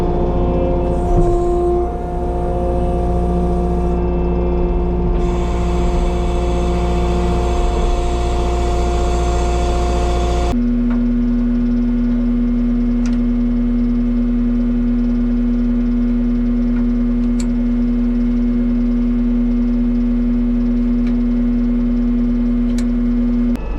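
A skid steer engine runs steadily nearby, a loud low rumble with a humming drone that shifts pitch as the load changes about halfway through.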